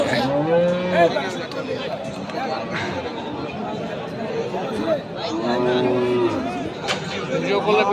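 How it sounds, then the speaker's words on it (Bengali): A large bull at a crowded cattle market in Chattogram lets out deep, drawn-out moos, one early and another later, amid constant crowd chatter and nearby voices talking. "বিশাল গরু বিশাল গরু ক্যামেরা আসে না"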